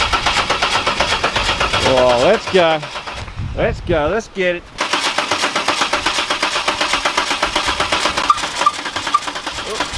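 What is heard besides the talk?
LS engine starting and idling in ute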